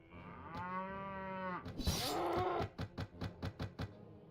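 Cattle in the Mount & Blade video game low with a long drawn-out moo, followed by a quick run of short, rhythmic clattering sounds, all close and clear.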